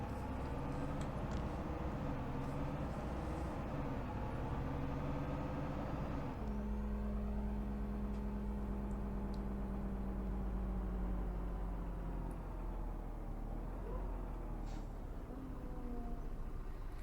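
Irisbus Citelis city bus with a ZF gearbox in OMSI 2, its engine droning steadily and loudly from inside the cabin, with a clear whining shift partway through as the revs change.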